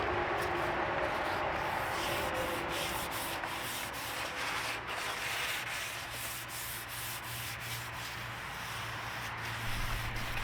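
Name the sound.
hand sanding primer on a VW bus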